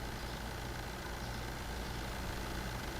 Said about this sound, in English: I love that everything sounds like a tractor.